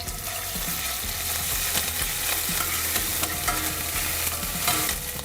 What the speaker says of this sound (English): In the oil I'm going to add some green chili, about teaspoon, and about teaspoon of ginger paste.